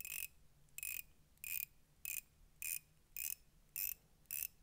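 A counterfeit Invicta watch bezel is turned in steps, giving eight evenly spaced bright ratchet clicks about half a second apart, close and crisp against a quiet background.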